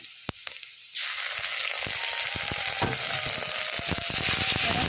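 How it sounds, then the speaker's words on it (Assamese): Onion with ginger, garlic and cumin frying in a pan, a loud continuous sizzle that bursts in suddenly after a few quiet clicks, with stirring scrapes through the hiss. "এতিয়া মই দিম মছলাখিনি অলপ সময় মই ভাজি ল'ম।"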